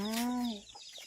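A single chicken gives a short, loud, drawn-out cluck up close, then fades into faint rustling.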